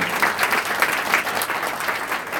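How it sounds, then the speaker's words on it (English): A live audience breaks into a steady round of applause for people seated among them, dense clapping that stays fairly loud and even throughout without anyone speaking. "I want you to give them a round of applause."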